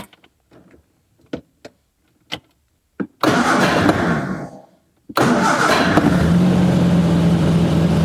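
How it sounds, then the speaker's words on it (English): A Triumph Spitfire roundtail being started after propshaft repairs: a few faint clicks and knocks, then a loud burst of cranking that fades, and after a brief pause the engine catches and settles into a steady close idle. "See if she starts."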